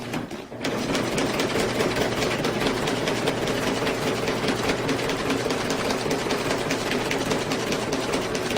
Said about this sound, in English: So far so good on the tune-up of the sewing machine.